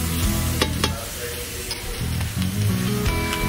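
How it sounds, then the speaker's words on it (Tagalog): Fried pork leg (pata) sautés in a pan for balbacua. It gives a loud, continuous close sizzle with scraping stirs and clatters of the utensil against the pan. "ilagay lang natin at igisa pa natin ulit para lalong sumarap at bumango ang ating pata"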